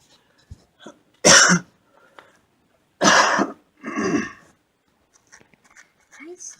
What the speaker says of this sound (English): Just a minute, I have to cough.